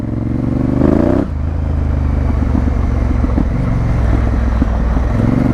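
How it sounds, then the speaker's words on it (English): A Honda Africa Twin motorcycle on road tyres rides a bumpy public byway, the engine revving up sharply before dropping to a steady, rumbling drone with clattering knocks from the rough track. "I'm going down this public byway on my road tyres on my Africa Twin with very little skills"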